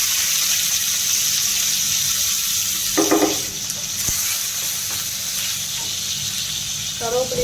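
Garlic sizzles loudly and steadily in hot oil with mustard seeds and cumin, with a few brief clinks of stirring over the constant frying hiss.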